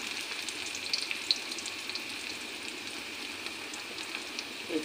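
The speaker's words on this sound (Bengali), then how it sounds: "পেঁয়াজটা আমার ভাজা ভাজা হয়ে গেছে" Onions frying with mustard paste in a pan for a boal fish curry, a steady close sizzle with faint crackles and a few sharp pops throughout, no talking.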